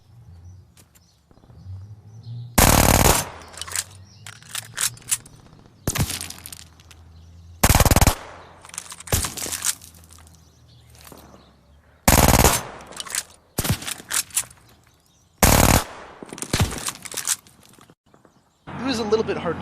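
Rapid bursts of machine pistol fire from Call of Duty: Vanguard, likely Akimbo, sound in several loud, sharp volleys separated by gaps, with a voice talking between them.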